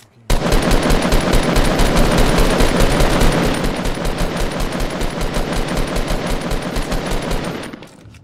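Rapid automatic gunfire in a video game, a dense unbroken burst of shots close and loud for several seconds before tapering off at the end.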